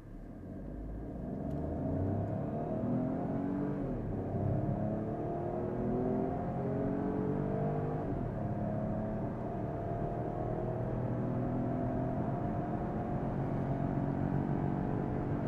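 A 2024 Peugeot 408 with a 1.2-litre 130 hp engine accelerates hard from standstill in sport mode, its pitch climbing steadily, a continuous close rumbling drone with no voices.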